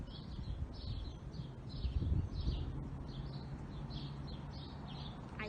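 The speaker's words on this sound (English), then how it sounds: "I hear the birds chirping." Birds chirping in a garden, a series of short, thin, repeated calls at a moderate distance over a low background rumble, with no talk.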